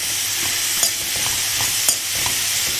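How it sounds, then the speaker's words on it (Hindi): Zucchini is stirred into vegetables frying in a pan, with a steady bright sizzle and occasional soft scrapes and clacks of the utensil, close and without speech. "अब हम इसमें डालेंगे जुकीनी। और इसे भी अच्छे से मिला लेंगे।"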